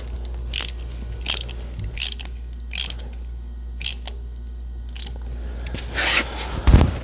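Ratchet tightening clamps on a MercRacing 4.0T heat exchanger fitted to a 3.0T boat engine: a steady run of sharp, close ratcheting clicks in evenly spaced bursts, ending in a few louder, busier strokes with no talking.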